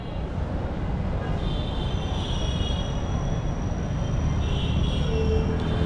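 A metro rail train rolls past close by, its loud steady rumble running throughout with faint wheel squeals rising over it, and no talk.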